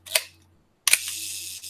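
A vintage film camera with a metal top cap fires its shutter, a sharp mechanical click, then after a pause a second snap followed by a short whirring mechanism, close and crisp with a faint background hum.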